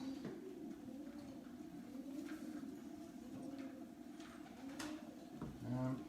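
Racing pigeons in a stock loft coo softly and repeatedly in low rolling calls, close by and steady, with a brief rustle near the end.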